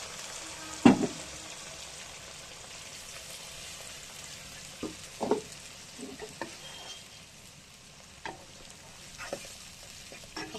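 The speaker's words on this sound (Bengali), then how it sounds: "মশলাটা এবার একটু কষিয়ে নেব ভালো করে।" Spice paste of turmeric and chili powders frying with browned onions in a pan, a low steady sizzle broken by several sharp scraping stirs, the loudest near the start, with no voices.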